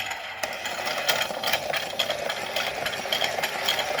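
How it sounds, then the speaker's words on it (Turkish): A toy penguin playground set with a slide runs close by, giving off a steady small-motor whir with continuous light plastic rattling and clicking for the whole stretch. "Şimdi mavi pengueni de kaydıraktan kaydıralım ve parkımızı çalıştıralım yine."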